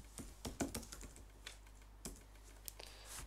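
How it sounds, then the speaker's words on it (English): Quick, uneven keystrokes on a computer keyboard, entering words into a search field, with bursts of taps and short pauses, close and fairly quiet over a faint background hum. "type the word, press tab, type the next word"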